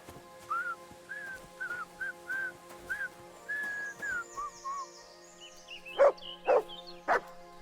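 A dog in the video game Kingdom Come Deliverance 2 gives three sharp, loud barks near the end, after a long run of quiet whistled or whining notes.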